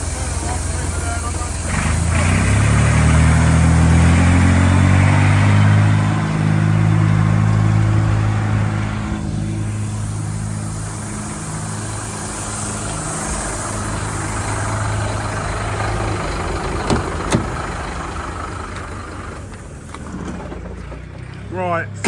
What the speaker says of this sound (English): We actually brought some of the 40mm stone back in the dumper, so we'll tip that off